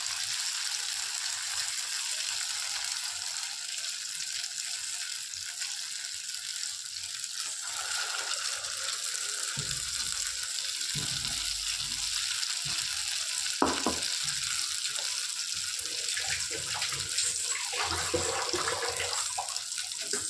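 Batter poured onto a hot pan for Tamil sweet susiyam, a steady close sizzle and frying hiss running throughout with a few brief stirring or splashing touches, no talk.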